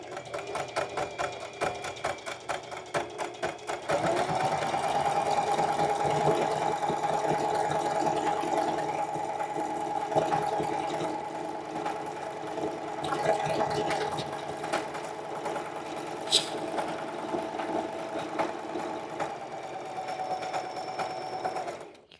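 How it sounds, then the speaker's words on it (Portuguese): A Singer Facilita Pro sewing machine runs its automatic buttonhole stitch on fabric, humming steadily and closely for about eighteen seconds after a brief start, with a rapid motor whir throughout. "Vou apenas firmar o meu tecido aqui e apertar o pedal. E ela vai fazer a casinha sozinha."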